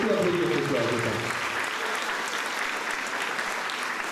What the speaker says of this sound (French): On peut les réapplaudir, oui.